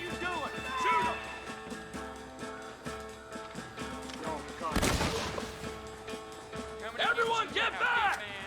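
Gunfire in the 2010 PS3 game Red Dead Redemption: a sharp, loud shot burst cuts through midway, amid a tense orchestral score and people talking over the action.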